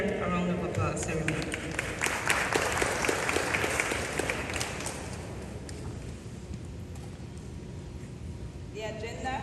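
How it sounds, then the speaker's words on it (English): Applause from an assembled audience at a ceremony greeting its chairing president, a dense wash of many hands clapping that swells in the first half and then slowly thins out. "let's give her a round of applause"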